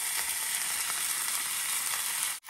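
Ribeye steak frying in a little oil in a pan, a loud, steady hiss and crackle of sizzling fat that runs unbroken until cutting off abruptly near the end.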